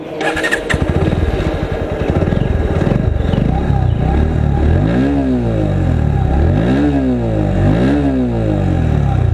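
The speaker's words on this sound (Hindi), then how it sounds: "ये है पल्सर का 125 इसका साउंड सुनते हैं" A Bajaj Pulsar NS125 BS6 motorcycle engine revs loudly up close, with repeated rising and falling throttle blips over a steady idle.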